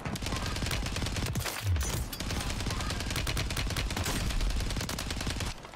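Rapid sustained automatic gunfire in the video game Warzone, dense continuous bursts filling the whole stretch with barely a pause, loud and close, with a voice talking faintly underneath.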